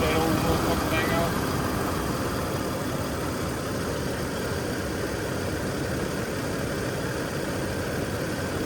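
A Toyota Tacoma pickup engine, on a squatted truck, idles steadily with a continuous low rumble close by, a faint voice briefly audible near the start.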